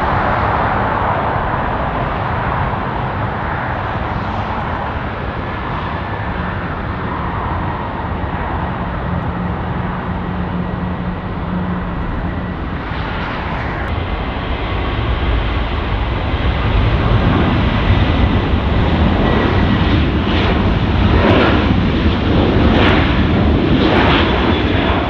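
An Airbus A330 takes off from a Zurich runway in the Infinite Flight video game, giving a steady loud jet roar that builds in strength and low rumble during the second half.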